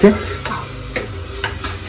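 Fish fries in a hot pan with a continuous sizzle, broken by a few sharp knocks and scrapes of stirring at a slow, irregular pace.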